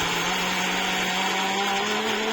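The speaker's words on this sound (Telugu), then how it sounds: "మొదలైతే ఉన్న మీగడంతా మిక్సీ పడతా" A mixer grinder whirs steadily while blending milk cream for homemade ghee, a loud continuous motor drone with a constant high pitched hum and no talking.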